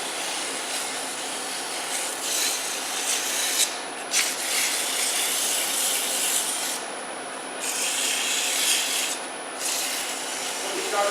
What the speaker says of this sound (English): And I would sand it to about 1500.